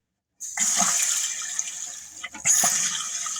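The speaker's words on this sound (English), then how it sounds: "And now we have water flowing in the toilet." Water rushes into a newly installed toilet, starting abruptly after a brief silence as a loud, close, hissing flow with a gurgle partway through, then a second surge of water filling the bowl.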